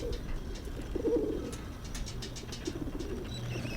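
Pigeons coo in the video game Whateverland: soft, low, throaty calls repeat over a steady ambient background, with no voices.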